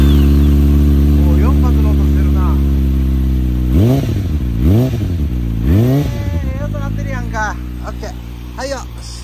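A Kawasaki ZX25R with an aftermarket Beet exhaust idles with a deep, steady drone, then blips its throttle three times in quick succession, each rev rising sharply and falling back, loud and close.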